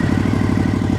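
A Suzuki V-Strom 1050 XT motorcycle engine running with a steady, throbbing low rumble, loud and close, with no voices.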